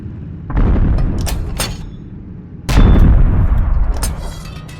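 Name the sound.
gunfire in video game Steel Aces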